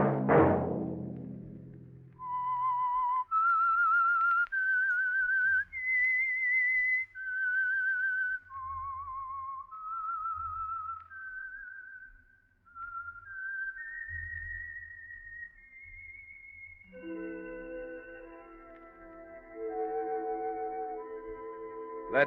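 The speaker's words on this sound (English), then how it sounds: "Let that whistle be your signal for the Signal Oil program, The Whistler" A melodic whistled theme tune for The Whistler radio mystery program, a clear solo whistle carrying a slow rising and falling tune with sustained notes, then joined by orchestral accompaniment near the end.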